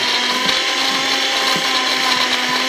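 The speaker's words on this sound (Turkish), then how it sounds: "1200 watt motor olduğu için bayağı güçlü çalışıyor ve iyice parçık pinçik ediyor her şeyi." A Vitapower 1200 W blender grinds almonds with water, a loud, steady high-pitched motor whine with a faint pulsing churn throughout, heard alone.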